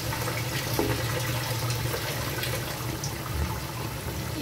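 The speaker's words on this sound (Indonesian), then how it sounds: "Kita tambahkan airnya ya." Water poured into a pan of soy sauce chicken as it cooks, a steady soft splashing and trickling, fairly faint and continuous, with no voices.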